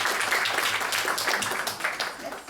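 Audience applause in a Paris parish church gathering, a dense steady patter of many hands clapping throughout, fairly close and even in level with no talk over it.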